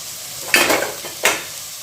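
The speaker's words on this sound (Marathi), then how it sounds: "आता कांद्याची पाक पण एकच मिनिट भाजून घेऊया" Onion greens fry in a pan for a spicy Maharashtrian bhaji, giving two short bursts of sizzle and scraping as a spatula stirs them, close and fairly loud, with quiet gaps between.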